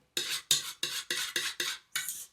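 A fork and spoon scrape sticky no-knead bread dough out of a mixing bowl in six quick strokes, each a short bright scrape with a soft gap before the next, close and fairly quiet.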